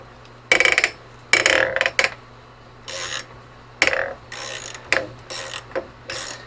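A ratchet wrench works at a power steering pump bolt on a 2008 GMC Acadia 3.6L, giving close, loud bursts of rapid clicking broken by short pauses, over a low steady hum.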